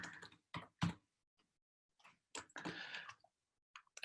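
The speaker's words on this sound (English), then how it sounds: "Excuse my typing." Clustered keystrokes from a computer keyboard come in short, irregular bursts with pauses between them, close and fairly quiet, with no talking.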